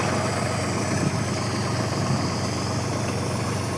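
Tractor engine running steadily in a pigeon pea field, a loud continuous low rumble and drone with no pauses.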